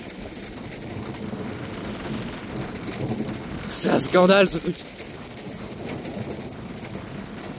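Steady rain from a supercell storm in Villefranche hisses throughout while someone speaks briefly and another voice laughs loudly near the middle.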